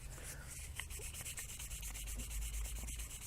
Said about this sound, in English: just lightly rub that back and forth, and it starts to give it that aged look